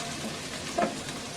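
Chopped garlic and ginger fry in oil for chicken sizzling, giving a short, steady crackling hiss with one brief clink near the middle.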